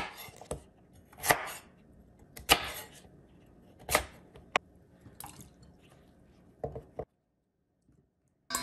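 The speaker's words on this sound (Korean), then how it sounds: "고구마 700g을 껍질을 벗긴 다음에 대충 이렇게 듬성듬성 각지게 썰어서요." A knife cuts peeled sweet potato into rough, angular chunks on a board, giving a series of sharp, close chops at an uneven pace, with a short quiet gap near the end.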